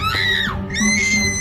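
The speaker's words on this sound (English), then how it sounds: "he heard someone scream" A loud, sustained scream sound effect in an animated fairy-tale story, about a second and a half long, rising and wavering in pitch and heard alone without speech.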